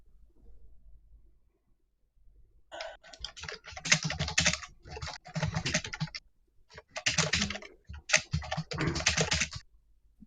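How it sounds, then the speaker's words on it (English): Typing on a computer keyboard in bursts of rapid, close key clicks separated by short pauses, fairly quiet and heard alone without any talking. "Typing noises."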